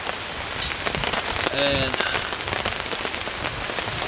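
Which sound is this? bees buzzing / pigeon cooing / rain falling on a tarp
rain falling on a tarp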